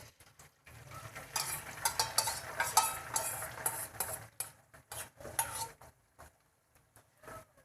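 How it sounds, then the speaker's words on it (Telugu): An egg goes into about three spoons of heated oil in a small pan for chicken biryani, giving sizzling and frying noise with scraping and clinking utensil sounds. The sounds come in bursts over several seconds, with no talk. "అందులో ఒక 3 స్పూన్లు ఆయిల్ వేసుకోవాలి. ఆయిల్ కొంచెం హీట్ అయ్యాక ఎగ్ వేసుకోవాలి."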